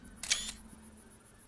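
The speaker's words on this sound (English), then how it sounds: "I'm going to take one of these photos." Camera shutter click while a photo is snapped in the hunting game theHunter: Call of the Wild, a single crisp mechanical snap near the start with a faint second click at the end, over quiet background ambience.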